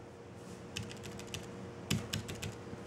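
Keys tapped on a Belkin Bluetooth keyboard for the iPad Mini, paired with a Google Nexus 7, in short irregular bursts of crisp plastic clicks, close and moderately loud, with no talking.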